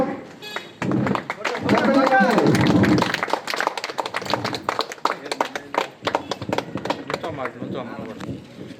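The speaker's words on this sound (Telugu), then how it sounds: "అందరూ చప్పట్లు పెట్టి" A crowd at a community association gathering claps, a burst of sharp uneven hand claps and thumps close by, mixed with loud voices and chatter that continue as the clapping thins out.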